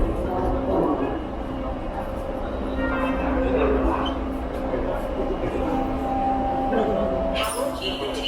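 Subway train arriving at Sherbourne Station in Toronto, a steady rumbling rolling noise with faint squealing tones and scattered clatter at moderate level throughout.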